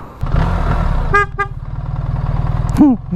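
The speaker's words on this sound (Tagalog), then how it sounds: "Pangit ng busina ko talaga." Two short honks of a car horn rise over a steady idling engine rumble, with a brief chirpy tone earlier; close and fairly loud.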